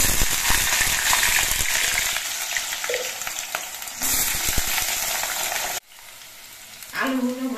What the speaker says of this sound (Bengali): এবার এই তেলের মধ্যে দিয়ে আমি আলুগুলো ভেজে নিয়েছি।